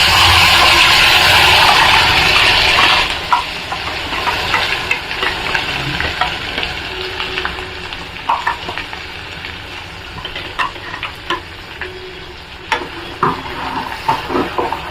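A loud burst of sizzling as freshly ground wet masala hits hot oil for Saoji chicken, then settling into crackling frying with occasional stirring clinks.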